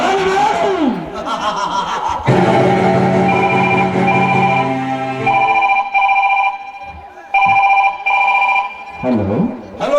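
During a village stage play, a telephone rings while a call goes to the inspector, its repeating electronic tone heard in several bursts amid music, voices and laughter.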